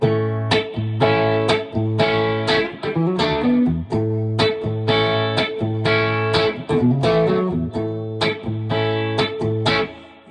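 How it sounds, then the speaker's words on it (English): An Epiphone Sheraton II electric guitar plays ringing, strummed and picked chords with reverb turned up, loud and close, each chord decaying into the next with no talking. "Put the reverb up."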